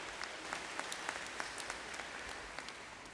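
Steady applause from an audience for teachers, a dense, even patter of many hands clapping at moderate volume throughout.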